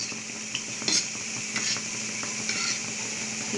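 Gulab jamun dough balls frying in hot oil, a steady soft sizzle close up with light clinks and stirring of a utensil in the pan, no talking.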